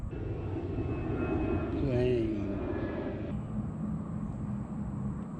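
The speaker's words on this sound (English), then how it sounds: "this is under the flight pattern, which I think is going on today, so you might hear some planes" A propeller airplane drones steadily overhead on a flight path near Dutchmans Creek at Lake Wylie, Mount Holly, North Carolina, its engine rumble swelling and then fading, with a person talking over the noise throughout.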